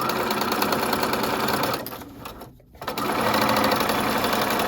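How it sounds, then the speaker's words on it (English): A sewing machine runs steadily up close, edge-stitching a serged wrap dress seam, with a brief slowdown and pause partway before the fast, even whir resumes. "I'm going to stitch close to the edge"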